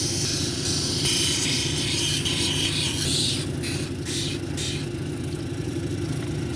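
A bumblebee jasper cabochon is ground on a 220 grit wheel, giving a steady motor hum with a continuous close grinding hiss and a few brief changes in pitch as the stone is pressed.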